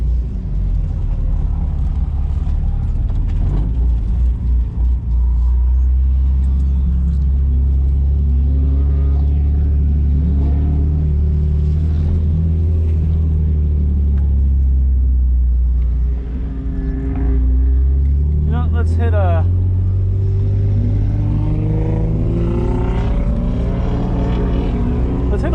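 A drift car sets out on its first lap of the night on a track at a skid pad, its engine loud and close throughout, rumbling heavily and rising and falling as it revs.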